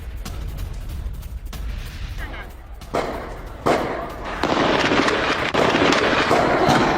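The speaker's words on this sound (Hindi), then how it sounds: "ईरानी शहरों में IRGC की फायरिंग है ये, और सड़क पर फायरिंग करते हुए पेट्रोलिंग" Gunfire from IRGC forces on patrol echoes through Iranian city streets as sharp, irregular bursts over a loud, rushing background of street noise.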